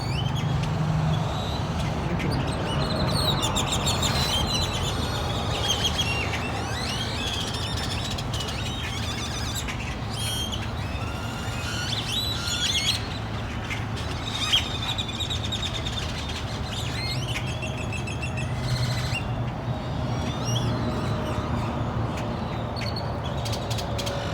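A dense, continuous chorus of many birds squealing and chirping at once, steady and loud throughout, with a faint low rumble underneath.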